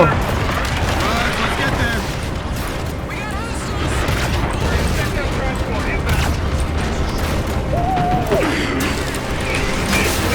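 Dense, continuous battle noise from Call of Duty: Infinite Warfare, with rapid gunfire and booms running throughout, mixed with other effects and a voice speaking over it.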